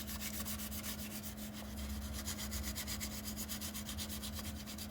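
Steady rubbing of 800-grit sandpaper scuffing clear coat on a painted truck upper control arm, a continuous close back-and-forth rasp with no pauses.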